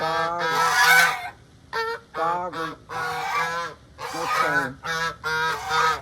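A flock of the speaker's own geese, about four or five years old, honks loudly and close in repeated bursts with short gaps, outdoors in the rain.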